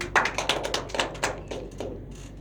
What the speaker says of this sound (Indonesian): Tepuk tangan untuk Sarah.